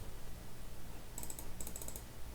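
Someone types a file name on a computer keyboard in two short bursts of quick, close key clicks over a quiet room hum.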